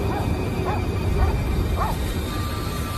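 A dog barks at night in Bucks County: several short, separate barks, fairly distant, over a steady background hiss.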